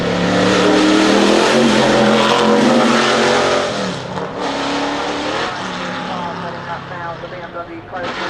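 A Ford hypercar accelerates hard at a shootout event, a loud close engine roar climbing in pitch, then easing off and fading as a voice talks over it.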